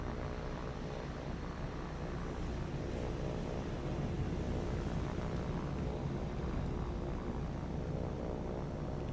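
An old propeller aircraft in the War on the Sea naval game drones past, a steady, fairly quiet engine roar with no break.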